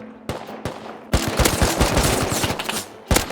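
Gunfire in the survival video game Rust, a few separate shots followed by a rapid automatic burst, then one more sharp shot, loud and close with no voices.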